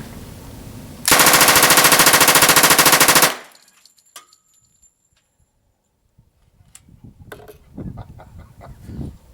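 A 1928 Thompson submachine gun fires one long, rapid automatic burst of about two seconds, loud and close, followed by quiet outdoor ambience and scattered faint clatter.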